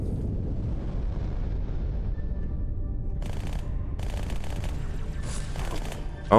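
Halo 2 gunfire in a busy battle, with repeated bursts of shots over a steady wash of game noise and several loud crackling volleys near the end.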